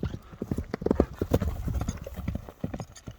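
A two-year-old horse walks, its hooves sounding a steady, close clip-clop with a soft whinny-like note and faint background voices.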